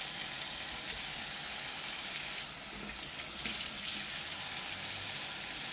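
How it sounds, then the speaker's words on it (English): Cold water runs from a kitchen tap into a sink in a steady, soft, hissing splash that swells briefly midway, with no one speaking. "As long as you have the cold water running, that will keep your hands cool."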